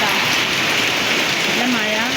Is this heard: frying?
no